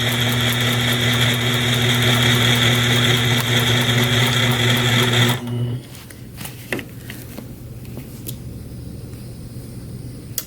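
A sewing machine doing free motion quilting with a ruler foot runs in a steady, loud hum with a strong even tone for about five seconds, then stops abruptly, leaving faint clicks and handling noises.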